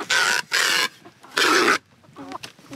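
A Rhode Island Red rooster gives three loud, broad crowing or squawking bursts close by, separated by short gaps, followed by softer clucking calls.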